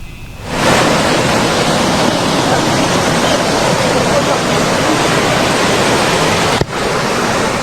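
A rushing flood river in Sumatra surges loud and continuous after a collapsed bridge, a dense unbroken roar of churning current close by, with one sharp knock near the end.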